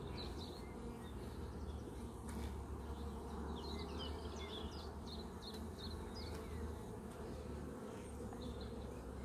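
Honeybees buzzing on an open hive frame with brood, a steady close swarm drone filling the whole stretch, with scattered higher insect whines and no talk.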